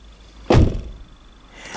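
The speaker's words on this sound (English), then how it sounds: "I close it as gently as I can, and there's always some vibration happening right here" The door of an MG 5 EV electric estate car is closed gently, a single close thud with a brief rattling vibration after it against a quiet background.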